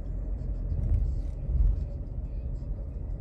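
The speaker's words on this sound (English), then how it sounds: "Got into a little bit of traffic here." Road traffic on the I-95 heard from inside a car, a steady low engine and tyre rumble with slight swells, no other distinct sounds.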